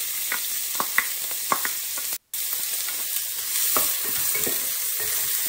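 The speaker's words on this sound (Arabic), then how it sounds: "في هالمرحلة راح أضيف البصل ونخلي البصل يذبل ويأخذ له لون ذهبي" Onions frying in olive oil give a steady close sizzle with scattered crackles and a few light stirring scrapes, briefly cut by a short silent gap midway.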